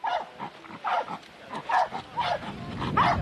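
Police dog barking during a live demonstration at an outdoor event, a series of about seven sharp, regular barks, fairly close and loud, with crowd noise faintly underneath.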